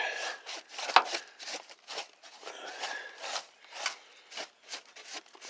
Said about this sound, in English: kind of just brush that crud right up out of there